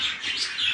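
Pigeons in a loft coop chirp and coo in a steady, overlapping chorus at moderate volume, with no voices over it.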